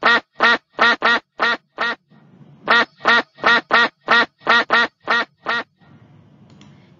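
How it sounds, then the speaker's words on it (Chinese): A duck quacks in quick bursts, two runs of about seven and ten sharp loud quacks with a short pause between, clear and close, as part of an animal sound guessing game. "是小鸭，你猜对了吗？ 小鸭，小鸭是小鸭，嘎嘎嘎嘎。"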